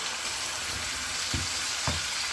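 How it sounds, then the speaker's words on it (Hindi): Chicken fries in a pan with ground ginger and garlic, a close, steady sizzle with two soft thuds of stirring; no talking. "भर के 1 टेबलस्पून अदरक पिसा हुआ डाल देंगे। अब इसके साथ भी भुनाई कर देंगे।"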